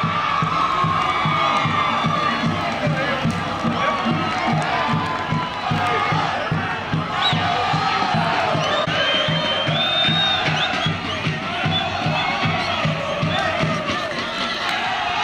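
Dense, continuous roar of a football crowd cheering and shouting at a Taça das Favelas match between Fazenda da Juta and Favela do Jd Santo André, with whoops and chants over a constant din.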